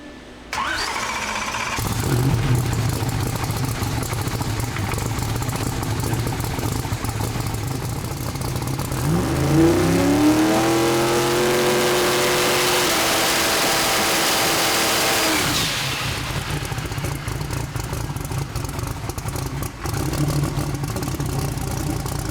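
A boosted car engine starts and idles with a steady rumble, then revs up through a rising, whining sweep and drops back to a harsh, crackling two-step idle, loud and close throughout.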